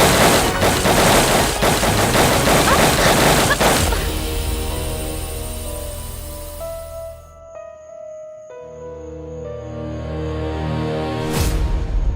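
Heavy gunfire in a CID Bengali crime drama scene, a loud, dense volley of rapid shots lasting several seconds, then giving way to ringing tones and a lingering hum, with no clear talk over it.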